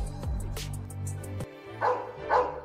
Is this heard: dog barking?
yes